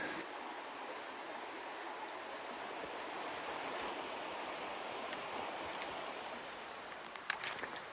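Hammersley Fork, a creek in the Pennsylvania Wilds, flowing in a steady, even rush of water that holds constant throughout, with a few faint clicks near the end.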